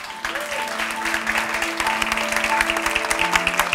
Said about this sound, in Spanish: vamos a celebrarlo dándoles a todas nuestras acompañantes, a nuestras visitantes, un fortísimo aplauso